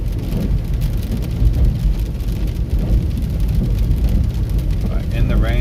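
Rain falls steadily while a car drives on an access road in Texas between Georgetown and Temple, a constant rushing hiss with low road rumble underneath.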